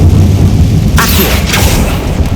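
An Accio spell cast in Hogwarts Legacy lands as a sudden whooshing burst partway through, followed by a second bright swish, both over a constant low rumbling game ambience.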